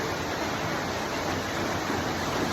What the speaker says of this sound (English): Final waterfall on this trip.